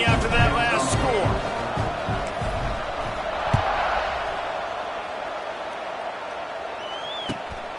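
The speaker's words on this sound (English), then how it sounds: "this crowd is buzzing after that last score." Stadium crowd in an American football video game with a Michigan team, a steady roar of fans buzzing after a score, loudest at the start and then holding at an even level with a few faint bumps.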